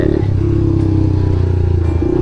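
An 88cc custom Honda Monkey motorcycle riding along roads: a loud, close, throbbing small-engine drone with steady pulsing beats and a brief shift in pitch partway through, no voices.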